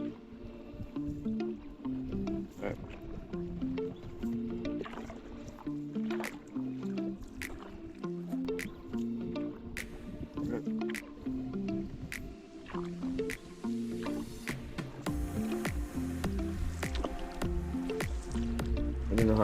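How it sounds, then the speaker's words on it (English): A paddle dips and pulls through lake water along a shoreline in a steady rhythm, with repeated drips and small splashes falling back, close and continuous, without talk. "for paddling, it's just gorgeous paddling along these shorelines"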